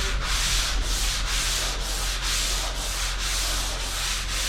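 Steady back-and-forth hand sanding of primer on Camaro Z28 car doors in a crosshatch pattern, a close, loud rasping rub repeating in regular strokes about every half second, with no voices.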